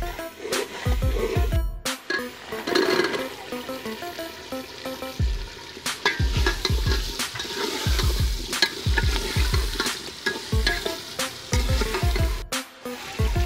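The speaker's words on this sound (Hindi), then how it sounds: "इनको हम 2 से 3 मिनट तक भून लेंगे।" Potatoes, peas and green chillies fry in a pot for a village-style pulao while a spoon stirs them, giving repeated scraping strokes in an uneven rhythm over a steady, close sizzle.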